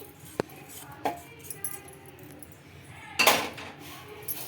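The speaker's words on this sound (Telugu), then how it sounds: "ఇప్పుడు ఒక మిక్సీ జార్లోకి అయితే వేసి పౌడర్ చేసుకోవాలి" Fried, cooled spices clatter into a mixer jar in a few sharp, separate clinks and one louder rattling pour, close and fairly quiet in between.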